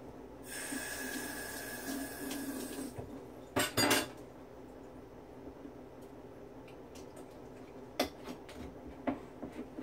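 A jar full of cold brew coffee is shaken hard, giving a loud rattling, sloshing burst for a few seconds and then a short second burst, followed by quiet with a few faint clinks.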